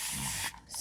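A spray bottle mists water over freshly inked pages in two hissing bursts: a long, close spray, a short pause, then a second, briefer spritz.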